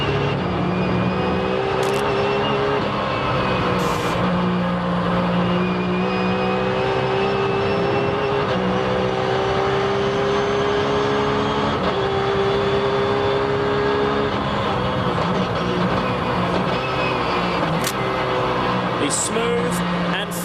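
Onboard engine of Dirk Werner's Grand-Am GT race car at Lime Rock Park, a loud continuous drone shifting pitch through gear changes and corners, with faint commentary underneath.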